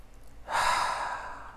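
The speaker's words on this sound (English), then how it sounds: "Let's take a deep breath." One slow, deep breath during a guided meditation, heard as a single soft, airy rush of air that swells and then fades, alone and close.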